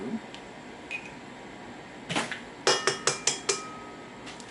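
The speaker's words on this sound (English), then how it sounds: "we're going to crack them. So that's 1 egg." A few eggs being cracked by hand while making a pineapple upside-down cake, sharp light taps against a hard edge followed by a quick run of clicks and clinks, close up in a quiet kitchen.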